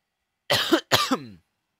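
Two harsh coughs in quick succession, close and loud, then silence.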